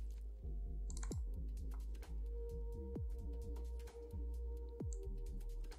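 Computer mouse and keyboard clicks, several sparse sharp taps spaced irregularly over a steady low electrical hum, close and fairly quiet.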